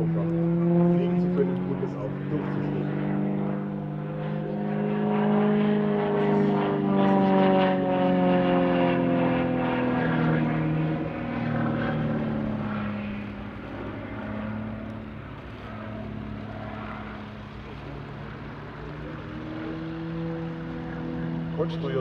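An Extra 330 SC aerobatic propeller airplane drones loudly and steadily, its engine pitch rising and falling as it maneuvers overhead during an aerobatic display at an airshow.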